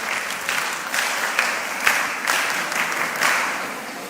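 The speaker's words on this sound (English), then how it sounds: "Please give her a big round of applause" A room of attendees at a mentorship session applauds steadily for a speaker, a close, continuous round of clapping with a few sharper individual claps standing out.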